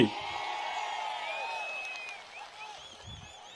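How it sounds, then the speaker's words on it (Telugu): A crowd at a Telugu political speech applauds loudly, with steady clapping and a few cheers that hold across the whole stretch and then ease off slightly toward the end. "మా ఆమోదం ఉందంటే గట్టిగా చప్పట్లు కూడా చెప్పండి"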